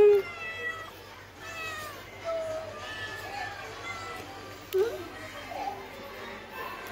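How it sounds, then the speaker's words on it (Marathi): A cat meows several times indoors, short rising cries spaced a second or two apart, fairly close and moderately loud, with faint voices and household sounds in the background. "कोणाची म्याव आहे?"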